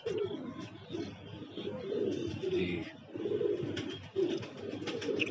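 Rampur pigeons coo steadily in soft, low, rolling phrases, several birds overlapping at moderate distance with faint chirps above.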